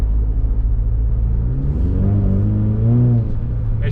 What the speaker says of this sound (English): it does have the nice little Eco Boost sounds